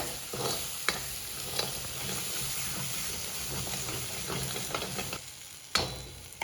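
Onion and ginger-garlic masala sautés in a pan, a soft steady sizzle broken by occasional sharp clinks and scrapes of a spoon stirring, close by and without any talk.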